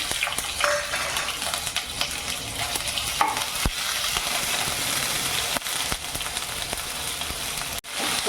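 Curry leaves with garlic and ginger paste fry in hot oil for masala bhendi, giving a loud, continuous close sizzle with occasional stirring scrapes and sharp pops throughout.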